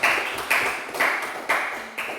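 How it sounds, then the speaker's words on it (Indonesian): A classroom of students claps for group 1 after their presentation, a rhythmic burst of four evenly spaced claps about half a second apart, close and moderately loud, with no talking. "beri tepuk tangan untuk kelompok"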